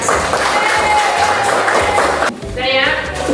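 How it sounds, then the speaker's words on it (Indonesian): Students in a classroom burst into dense, lively applause that fills the room, then it cuts off and a voice speaks. "Kita berikan tepuk tangan yang meriah."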